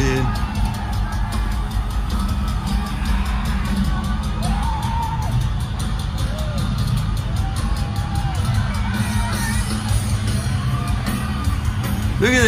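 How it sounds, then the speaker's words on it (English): Concert crowd at a metal show cheering and yelling, a dense continuous roar of many voices with occasional whoops and shouts rising above it, loud and close throughout. "Look at that crowd, man."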